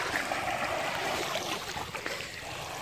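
Water pouring over the Mangla Dam spillway, a continuous broadband roar that holds steady and fairly loud with no speech on top.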